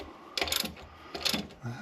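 Ratcheting wrench work on a bracket bolt on a 1966 Ford Mustang, two quick bursts of clicking ratchet strokes close up, separated by a short pause, with a low thud at the end.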